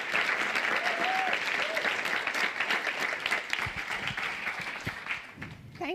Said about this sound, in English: please, a big round of applause for Dr. Bell Hooks and Dr. Kevin Powell